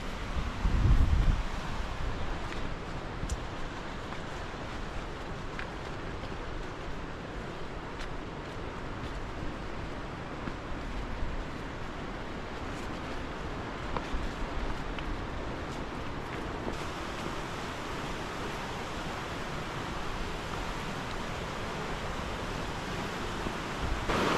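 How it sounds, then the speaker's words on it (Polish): A river rushes steadily far below a mountain trail, a constant broadband roar with no breaks that lasts throughout. Wind may be mixed into the wash, and a brief low thump comes near the start. "A tam na dole cały czas szumi nam rzeka, wzdłuż której ciągle się poruszamy."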